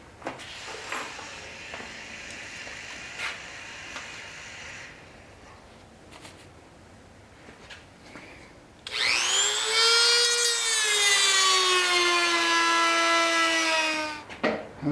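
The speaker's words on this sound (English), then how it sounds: "We're going to take our Dremel," A Dremel rotary tool trims a cheap plastic handguard, starting with a high-pitched whine that holds steady for several seconds at close range and then winds down, after quieter handling noises.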